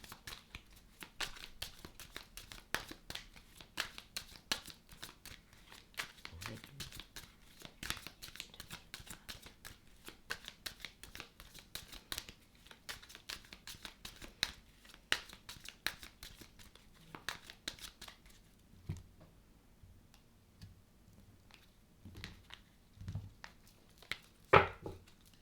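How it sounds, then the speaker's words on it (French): Tarot cards shuffled and drawn for a new-moon reading, a steady stream of soft papery flicks and riffles that thins out near the end, with a few sharper slaps. "je vais commencer par tirer 2 cartes pour la tendance générale"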